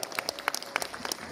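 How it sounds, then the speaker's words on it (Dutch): Applause for a professional cyclist at a post-Tour criterium presentation in Roeselare, a short stretch of scattered, fairly sparse hand claps from a crowd, distinct individual claps standing out rather than a dense roar. "Applaus voor Harm van Hoeken."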